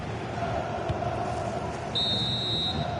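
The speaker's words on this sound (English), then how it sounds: "And there's the final whistle." A referee blows a single sustained final whistle at the end of a football match. The shrill tone rises clearly over a low stadium crowd murmur and holds for about a second.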